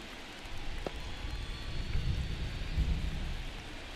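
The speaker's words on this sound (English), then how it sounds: "it is raining here in Game 7" Steady rain with a low rolling rumble of thunder during a baseball video game, a soft continuous hiss with a deeper swell building mid-way, no talking over it.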